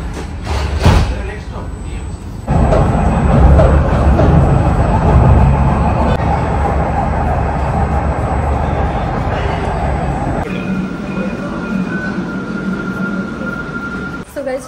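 Dubai tram doors sliding shut with a thump, then a steady rumbling ride through the Dubai Marina area, humming and rattling loudly while someone talks over it.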